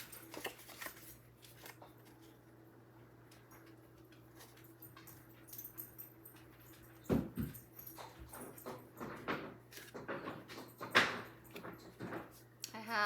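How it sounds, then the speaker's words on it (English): Two dogs being loud indoors, a visiting dog and a resident dog, giving scattered yelps, whimpers and scuffling that grow busier and louder toward the end over a faint background hum. "Have a dog here visiting, and that dog and my dog are being so loud."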